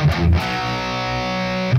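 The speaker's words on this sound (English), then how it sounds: "So that last phrase should sound something like this." Distorted electric guitar playing the bridge riff of a song, a short, loud chord attack ringing out for under two seconds.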